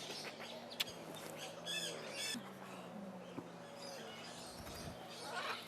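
Lorikeets in an animal encounter aviary squawk and chirp in brief scattered calls, fairly faint, against a low steady background hum.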